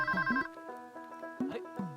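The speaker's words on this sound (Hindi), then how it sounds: "किसी का फोन बज रहा है ना? आप ही का बज रहा है।" A mobile phone ringtone plays a bright, repeating melodic tune at moderate volume, ringing in short phrases with pauses, set during a live farming talk show in a studio.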